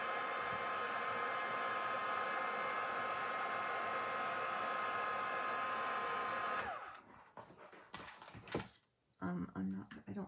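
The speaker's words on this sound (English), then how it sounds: "if you don't dry them with your heat tool, they do start to curl" A heat tool blows a loud, steady, close whooshing roar while drying freshly stamped craft pieces, then cuts off abruptly, followed by quiet handling clatter and someone talking.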